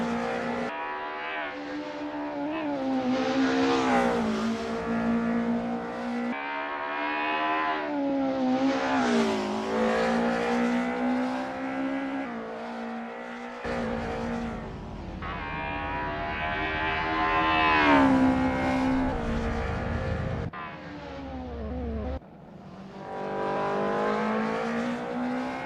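BMW DTM race cars in a racing game, a loud sustained engine roar rising and falling through gear changes as several cars scream past, with sharp shifts and a brief drop before revving again.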